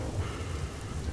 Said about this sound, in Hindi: देखते देखते बारिश तेज हो जाती है